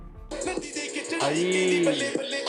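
Music plays through a cheap Chinese-made Bluetooth speaker with LED lights, a steady tonal tune with a sliding melodic line filling the clip at moderate, slightly thin loudness after a brief quiet start.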